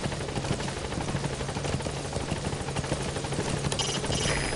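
A hovering helicopter in Metal Gear Solid V, close and loud, with a continuous rhythmic rotor chop and engine drone that stays steady, a brief sharp sound near the end, and no speech.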